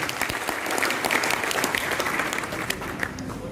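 A crowd at a private schools association annual function in Araria Town Hall gives a district education officer a hearty round of applause, dense sustained clapping from many hands that stays strong throughout.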